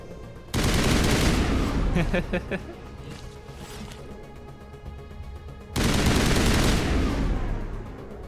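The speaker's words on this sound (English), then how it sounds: "See how she's shooting." Bursts of rapid gunfire ring out in Mass Effect, two loud sustained volleys separated by quieter battle noise, with a brief stuttering automatic burst in between and a voice talking under the action.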